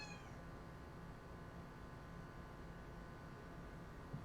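A house cat meows faintly in the background of a quiet room, a short high cry near the start over a steady low hiss.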